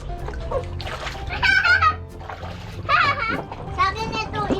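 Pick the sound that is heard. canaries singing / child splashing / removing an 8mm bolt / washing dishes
child splashing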